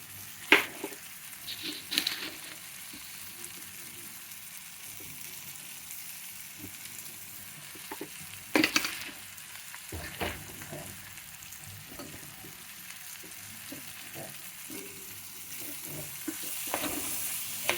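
Vermicelli and vegetables frying in a pan for masala semiya, a quiet continuous crackle and hiss with a few louder spatula scrapes and knocks scattered throughout.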